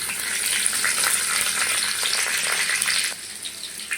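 Bay leaves and green chilies fry in hot oil with nigella seeds for a vegetarian taro and chickpea dish, a bright, loud sizzle that crackles steadily, then settles quieter after about three seconds.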